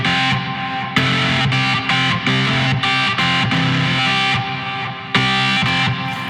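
Classic rock organ patch on the ToneStack synth, played as solo fifths in short sustained power-chord stabs with a distorted, reverberant tone, each note block starting abruptly, no voices.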